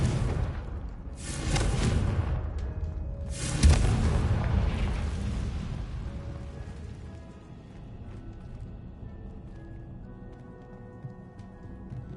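Confringo blasting spell going off in Hogwarts Legacy, two heavy booming explosions close together with a deep rumbling tail that fades slowly under faint game ambience and music.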